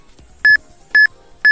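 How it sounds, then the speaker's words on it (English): Three loud, identical electronic beeps sound at an even half-second spacing, each a short pure tone, cut clean with near silence between, from a stream redeem alert during a Pokémon Emerald shiny hunt. "we've hit our beeps for stream"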